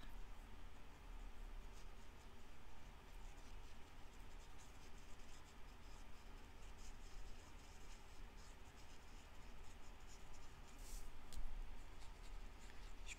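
A pencil colours in a picture on a handmade peek-a-boo card, giving a faint, steady scratching of lead on paper that runs continuously with no talking.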